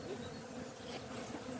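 A single bee resting on a beehive lid gives a faint, continuous buzz close by, steady and unbroken throughout.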